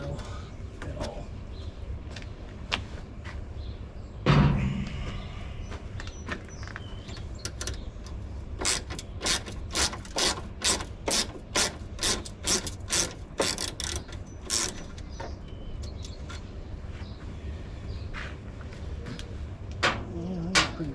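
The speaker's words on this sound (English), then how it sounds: "Might recognize this ratchet. It's cheap" Rapid clicking of a cheap ratchet wrench turning a bolt in a Toyota 4Runner wheel well, in repeated bursts, close up, with a sharp clunk early on and a quieter stretch between runs of ticks.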